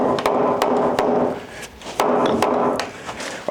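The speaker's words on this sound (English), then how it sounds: "I think we're just going to have to try bash it" Repeated heavy blows of a hammer driving a wooden joist into a tight fit in a termite-damaged house frame, loud close thuds in two bursts with a brief pause between.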